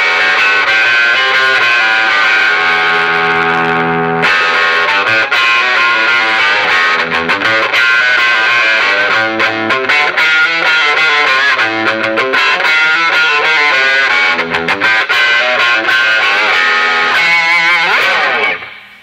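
A Fender Nocaster electric guitar played through a Monolith Spectre pedal on its Banshee setting into a Fender Blues Junior amp rings out loud and continuous, with thin, bright, distorted chords and modulated sustain, cut off abruptly at the end.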